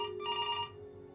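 A telephone rings in the video game Before Your Eyes, one short electronic trilling burst of bell tones that cuts off quickly, quiet and clear with no talking.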